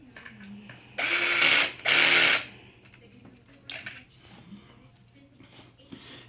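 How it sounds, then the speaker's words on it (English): An Allen wrench tightens screws on a Traxxas X-Maxx RC truck during a spur gear change: two loud, bright bursts of ratcheting clicks up close, then a shorter one, with faint talking and handling noises between. "So tighten down all your screws."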